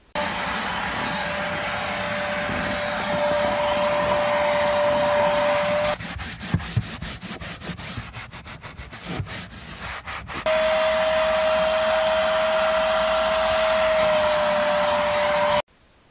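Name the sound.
vacuuming a Nissan 350z car interior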